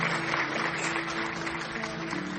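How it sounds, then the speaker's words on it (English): Canned applause sound effect played over a radio livestream, a steady dense clapping texture at moderate level with no voices on top. "Oh, my claps were so high."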